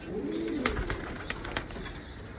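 Pigeons coo softly on a balcony, with low, rolling calls early on over a steady outdoor hiss and a few faint clicks.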